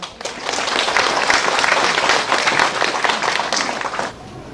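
Warm, sustained applause from an audience at a commemoration ceremony for a 105th birth anniversary, dense clapping that swells, holds steady for several seconds and then tapers off.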